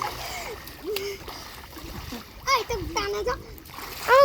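A child swims and splashes in water, with a few sharp, close splashes scattered between children's chatter and high voices.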